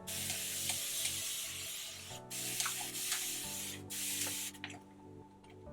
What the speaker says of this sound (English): Taking my spray bottle.